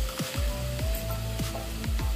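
Onions and tomato puree sizzle steadily in a pan, a constant close frying hiss broken by repeated stirring scrapes and soft squelching as the mixture is turned, with no talking.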